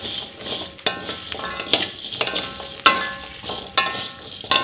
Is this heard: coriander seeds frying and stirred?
yes